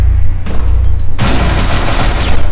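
Dense, loud gunfire from the video game Rainbow Six Siege, a continuous close-range burst of booming shots.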